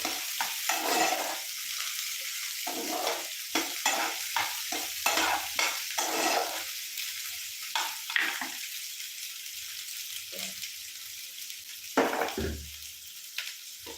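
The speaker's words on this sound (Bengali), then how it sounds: "রসুন কুচি ছিল আদার আদা কুচি ছিল সেটা তো আমি দিয়ে দিচ্ছি দিয়ে এটা ভেজে নেবো" Chopped garlic, ginger and green chili frying in a pan, with repeated close scrapes and stirring bursts of a spatula over a softer background sizzle, with no one speaking.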